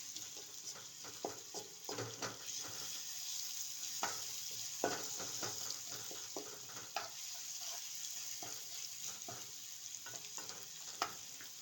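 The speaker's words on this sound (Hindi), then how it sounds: "अदरक और लहसुन को इसमें ठीक तरह से मिक्स करना है और 2 से 3 मिनट तक ये फ्राई होते रहे" Ginger and garlic sizzle in a pan for a liver and tripe dish, a soft steady frying hiss broken by occasional stirring scrapes and clicks.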